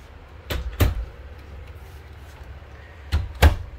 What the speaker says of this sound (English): Your bathroom door, when you enter from the hallway, just slides right back.